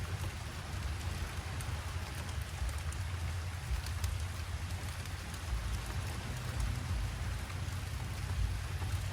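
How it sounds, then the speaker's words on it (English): Light rain sprinkles outdoors on Bainbridge Island near Seattle, a soft, even patter and hiss of drops that continues steadily under a low rumble, with no one talking. "It's starting to sprinkle again, just slightly, but I'm happy about that."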